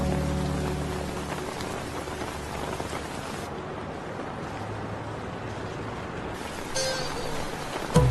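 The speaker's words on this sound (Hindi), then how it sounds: "मुझे पता है बारिश हो रही है" Steady rain falls on a surface through a Hindi drama scene, a constant dense patter with a brief louder burst near the end and no talk.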